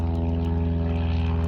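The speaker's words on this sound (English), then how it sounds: "And sorry for the airplane noise if you heard that." A propeller airplane drones overhead near an airport, a loud, steady low engine hum with pulsing harmonics, close and continuous for the whole moment.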